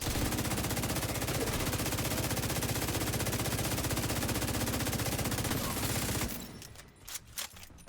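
Sustained rapid automatic gunfire in a video game, a continuous loud stream of shots that cuts off near the end, leaving a few scattered quieter sounds.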